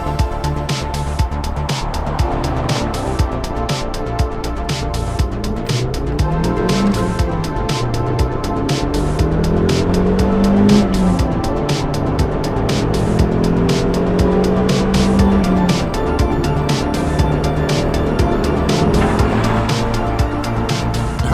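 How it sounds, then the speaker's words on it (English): A Mazda 323 GTR 4WD turbo driving on a road, its engine droning steadily from inside the car with rising and falling revs and turbo whine, loud and continuous. "you mainly hear like the engine noise and the turbo noise rather than anything else"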